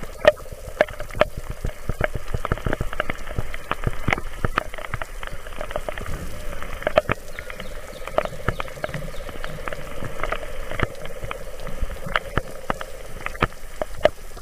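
Heavy rain falls on a Mount Salak hiking trail, a steady dense patter of drops with sharper close splashes scattered throughout, continuous and fairly loud with no talking.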